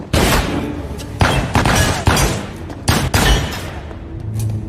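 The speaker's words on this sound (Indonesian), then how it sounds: "terjadilah sedikit baku tembak di antara mereka" Film gunfight between two men, a rapid series of loud gunshot bursts and booming bangs in several close clusters, with short gaps between volleys.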